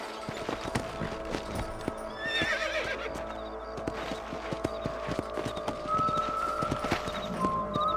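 Steady clip-clop of horse hooves at a trot with a horse whinnying, over a soft ambient backdrop, in the video game Red Dead Redemption.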